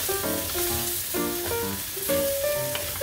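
Herbs sizzle steadily in hot oil in a pan for a porcini mushroom risotto, a loud, close, continuous frying hiss with faint stirring and no talking.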